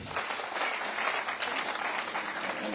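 Steady applause from an audience at a meeting for people living with disabilities in Nairobi City County, dense and sustained throughout without a break.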